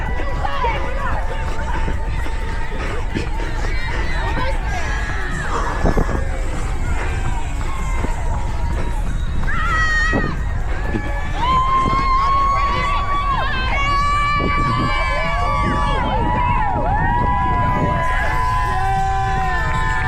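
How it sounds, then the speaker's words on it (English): Spectators cheer and shout along a 5K road race course, a continuous crowd hubbub with whoops and children's voices rising and falling as runners pass, with footsteps and breathing close by. "People cheering is the best thing ever"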